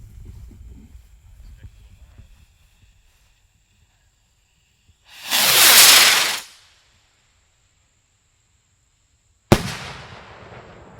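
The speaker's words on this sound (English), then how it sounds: "Alright, we got the noise big boy here. How big that is? 3-inch ball on the top." A large 3-inch firework shell bursts in a loud, long roaring explosion after a quiet lull, followed a few seconds later by a second sharp, booming crack at an outdoor pyro gathering.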